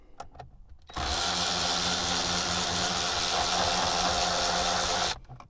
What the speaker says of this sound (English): I have just the tool for that. It's a Ryobi power ratchet.